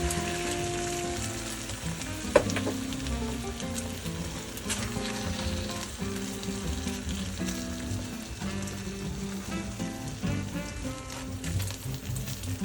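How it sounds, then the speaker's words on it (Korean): A potato and egg mixture fries in a pan with a continuous crackling sizzle, close and steady, broken by scattered pops, light tapping and a sharp knock of a utensil early on. "이제 앞뒤로 뒤집어가며 노릇하게 익혀주세요"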